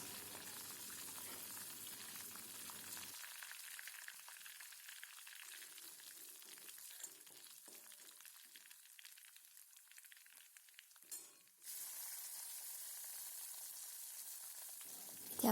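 Tomatoes sizzle as they hit hot oil with reddened garlic paste and curry leaves for a potato curry, a steady close frying hiss that briefly flares louder near the end, with no talking.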